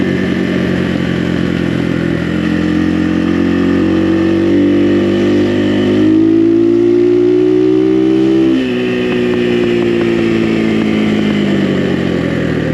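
An XPro Templar 250cc carbureted dirt bike engine runs loud and close with a steady rumbling drone, its pitch climbing and falling through a rev around the middle, with popping and crackling mixed into the exhaust note.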